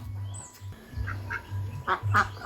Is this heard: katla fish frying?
no